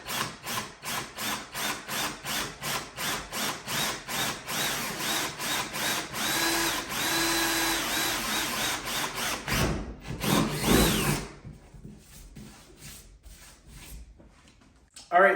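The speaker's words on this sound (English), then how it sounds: "So we're just gonna drill 1 hole on each side" A power drill whirs in rapid repeated pulses, then runs steadily as it bores holes in an Ascend 133x kayak, ending with a short burst after a quieter pause.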